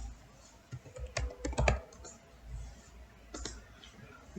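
Computer keyboard clatter while an AngularJS script is written into a web page: a quick burst of close key clicks in the middle, a few scattered taps before and after, and a quiet room tone.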